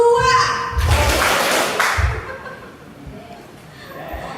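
An audience at a teachers' workshop claps together in a short rhythmic burst, with two distinct thumping beats standing out close and loud before the sound fades into room quiet.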